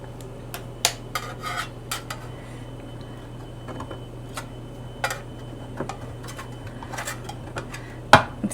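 A SpongeBob spatula scrapes and taps against a pan while lifting out Jello, making scattered light clicks and clinks with a sharper knock near the end, over a faint steady hum.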